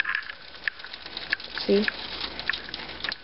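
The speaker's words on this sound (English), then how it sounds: "That's how hard it's hailing." Hail falls hard during a storm, a dense, fast patter of small sharp impacts close by, with a brief word spoken over it.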